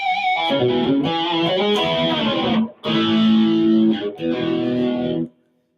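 An electric guitar played through a Helix, set to emulate a Rockman-style distortion, rings out in a saturated, sustained melodic line with a short gap midway, then stops abruptly.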